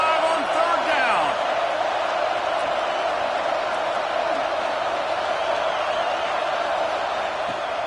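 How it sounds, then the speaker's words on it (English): An Ohio State Buckeyes stadium crowd roars in a steady, dense wash of cheering on a third down during a football game against Oregon, with an announcer talking over it. "The Buckeye crowd alive on 3rd down."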